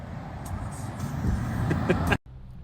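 A hired car rumbles along a rough, sketchy back road in remote countryside, its steady broadband road noise filling the clip with a few bumps before cutting off abruptly near the end.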